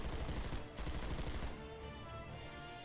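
Rapid weapon fire in Planetside 2, a dense continuous burst of shots filling the clip loudly, then trailing into a sustained ringing tail.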